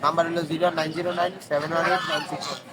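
Ducks for sale at the Fatullah livestock market quack close by, a run of loud, harsh, overlapping honking calls with barely a pause.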